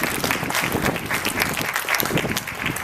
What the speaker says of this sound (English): A round of applause for Tara as she comes up on stage